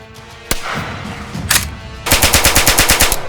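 A single sharp gunshot, then another, followed by a rapid burst of automatic gunfire, about a dozen evenly spaced shots, loud and close, recorded for Sniper Elite 5.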